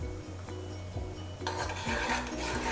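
A spoon stirs ghee into green gram and jaggery payasam in a pot. Repeated close scraping and clinking sounds run against the metal throughout, with a brief faint sizzle.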